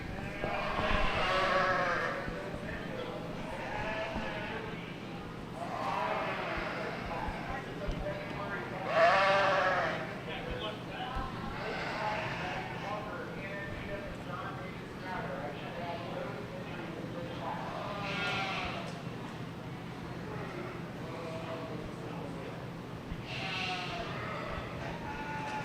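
Rambouillet sheep and ewe lambs bleat repeatedly at a youth breeding sheep show, several calls rising over a busy arena murmur with people talking throughout.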